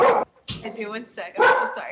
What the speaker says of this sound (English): It's just a dog barking.